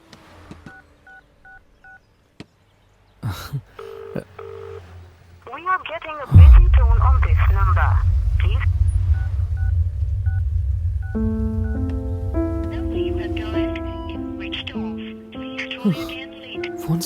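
Telephone keypad tones sound as a call is placed, a few short beeps over quiet before louder ringing and music-like tones take over.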